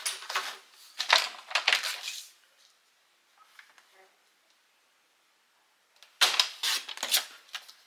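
Paper for a handmade photo storage box is cut in crisp, rustling bursts close by, two clusters of cutting separated by a quiet stretch with faint handling noises.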